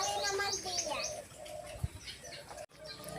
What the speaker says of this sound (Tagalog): Ayan ang aming lovebird.